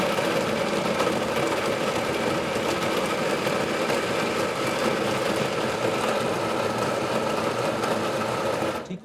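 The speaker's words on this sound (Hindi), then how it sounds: "हम इसको पहले ब्लेंड कर लेते हैं।" Electric blender grinding dates at full power, a steady dense whirring motor drone running continuously for about nine seconds before stopping abruptly at the very end.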